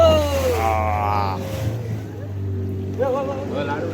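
Boat motoring on the open sea, a steady low engine drone with wind and water beneath people talking aboard.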